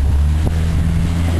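A light aircraft's engine, a Silent 2 Targa towing a glider aloft, holds a steady droning hum at takeoff power, loud and close, with one brief sharp click partway through and no talk.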